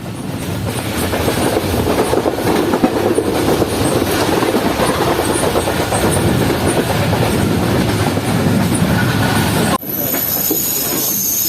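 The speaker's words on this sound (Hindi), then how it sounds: "36 जॉन सर सैयद एक्सप्रेस पहुंच रही है खानेवाल जंक्शन रेलवे स्टेशन पर" The Sir Syed Express rolls along near Khanewal Junction, a loud continuous rumble of wheels on rail heard from inside the coach, with squealing and hiss, then a sudden shift in tone near the end.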